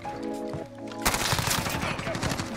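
Sudden burst of MP5 submachine gun fire in the video game Modern Warfare, loud rapid automatic shots cutting in after a quieter tonal stretch and continuing steadily to the end.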